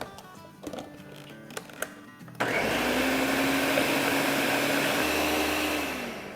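A kitchen blender starts after a few quiet knocks and then whirs loudly and steadily, pureeing cauliflower with half a cup of milk for white sauce pasta, the motor pitch easing slightly as it winds down at the end.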